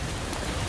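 Pouring rain outdoors, a steady dense hiss of drops with no pauses through the short stretch, fairly faint.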